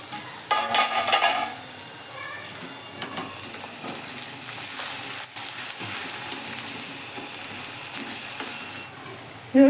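Onions frying and being stirred in a kadai, with steady close sizzling under repeated scraping, stirring strokes throughout; no one speaks.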